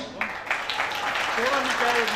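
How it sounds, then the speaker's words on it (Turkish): Family members at a graduation surprise gift gathering clap in scattered, uneven bursts while voices chatter and talk over the clapping in a small room. "Alkış."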